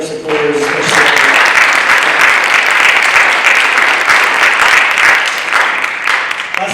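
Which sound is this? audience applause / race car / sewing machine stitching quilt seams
audience applause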